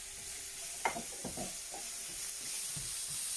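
Chopped asparagus stalks and tips with mixed vegetables frying in a pan, a faint steady sizzle with a few soft scrapes and knocks of stirring, alone without voices.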